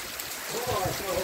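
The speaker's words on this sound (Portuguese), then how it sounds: "do Nordeste, do Brasil e do mundo é isso aqui, ó, chuva." Rain falls steadily with a broad, hissing wash, fairly loud and close, on a small cattle farm in Brazil's Northeast; a voice is faintly audible underneath.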